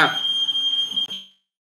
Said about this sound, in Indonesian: Jadi kalau udah kelebihan asap dikit kita alarmnya nyala soalnya ya